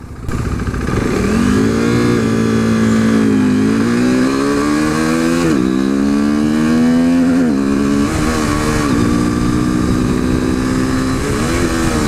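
A modded 2015 KTM RC 390 single-cylinder motorcycle revs hard on takeoff, its loud engine note climbing through several gears, each upshift dropping the pitch before it rises again, heard up close.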